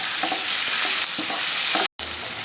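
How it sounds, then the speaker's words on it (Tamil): Onion, carrot and green chili sauté in hot oil for semiya kichadi, a loud, steady sizzle with repeated stirring scrapes and a brief dropout near the end. "இந்த வெங்காயம், கேரட்டு, பச்சை மிளகாய் எல்லாம் இதுதான் நல்லா வதங்கணும்"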